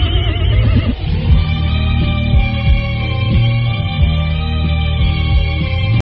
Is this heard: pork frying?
no